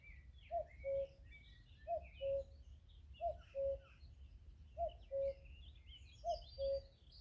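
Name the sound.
bird calling in the evening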